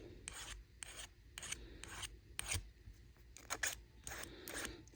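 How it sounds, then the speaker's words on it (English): A hand file rasps excess solder off the outer joint of a sterling silver ring, giving a series of short, close scraping strokes in an uneven rhythm with brief pauses between them. "We're going to go ahead and clean up the excess solder off the outside."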